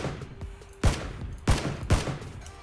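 Gunfire in the video game PlayerUnknown's Battlegrounds: three loud, sharp shots spaced roughly evenly, each with a short decaying tail over faint background ambience.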